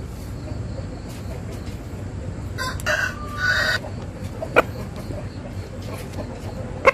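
A rooster crows once at moderate distance, its call rising and breaking off, with a few faint clucks and small clicks around it.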